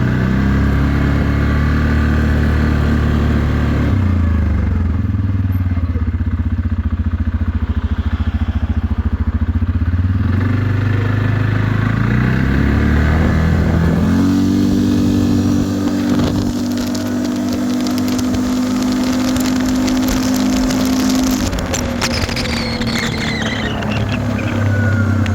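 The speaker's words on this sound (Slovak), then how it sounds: "Teraz tá štvorkolka ide konečne za plynom" A Linhai Landforce 650 ATV with a chiptuned control unit and modified variator rumbles and revs on a test ride, its engine droning loud and close throughout with several rising acceleration surges.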